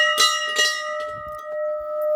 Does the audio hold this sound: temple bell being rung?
yes